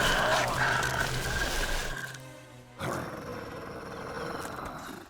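A wolf growls and roars loudly at close range, a rough rumbling burst that breaks off briefly and then resumes more weakly, heard with no talking.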